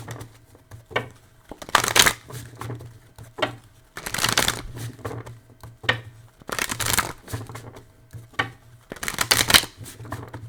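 A deck of tarot cards shuffled by hand in repeated loud riffling bursts with short pauses between, close to the listener over a faint low hum.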